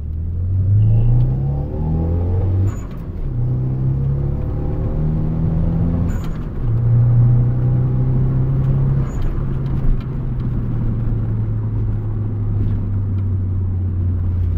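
A Mitsubishi Eclipse engine with a low-RPM misfire is revved hard to high RPM in repeated rising and falling pulls, loud and near, settling into a steady roar with no voices.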